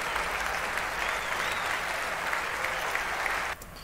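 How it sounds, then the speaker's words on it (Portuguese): Steady applause from a crowd, a dense continuous patter at moderate volume, stopping abruptly just before the end. "Aplausos, aplausos para a piada boba,"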